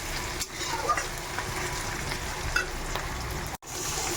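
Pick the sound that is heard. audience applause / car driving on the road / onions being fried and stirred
onions being fried and stirred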